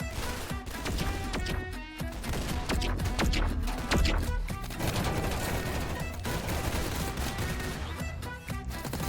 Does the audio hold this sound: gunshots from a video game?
yes